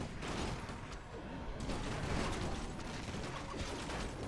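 Rifleman gunfire in a Warcraft 3 match crackles in quick repeated bursts over a busy battle mix of clanks and mechanical clatter, sustained and fairly loud throughout.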